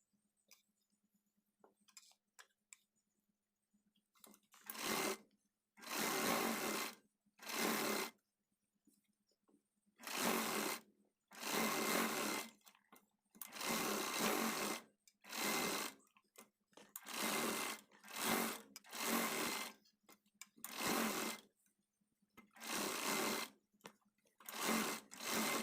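A sewing machine stitches the side seam of a blouse in a string of short, loud bursts of whirring, starting and stopping repeatedly with quiet gaps between runs.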